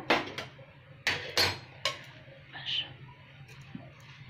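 A pot of egg biryani rice being stirred gives a few sharp metallic clanks and scrapes of a spoon against the pot, close and separated by pauses, with faint voice sounds in the background.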